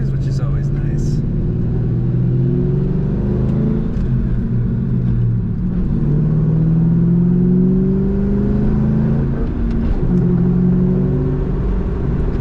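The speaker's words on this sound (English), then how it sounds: "Feels like a really good running Mustang" A 2001 Ford Mustang SVT Cobra convertible's engine hums and rumbles at low, steady revs while driving, with gentle rises in pitch as it pulls, under continuous talk from a man inside the car.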